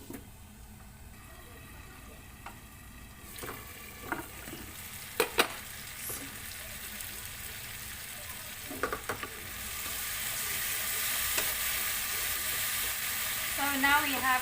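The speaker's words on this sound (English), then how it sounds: "So we have to saute this until the tomato gets soft." Tomatoes sautéing in a covered pan for Indian okra masala give a steady low sizzle, with scattered stirring clinks and scrapes and a hiss that grows louder toward the end.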